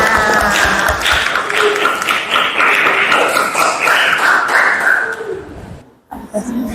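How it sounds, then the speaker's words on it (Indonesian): A classroom of students claps for group presentations, brisk rapid applause with some cheering voices, fading out near the end before a voice starts speaking. "kasih aplaus untuk presentasinya"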